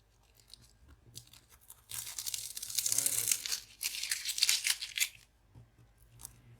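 Masking tape peeled slowly off an oil pastel drawing on paper, a few long crackling tearing strips in close succession, loud and alone after quiet handling.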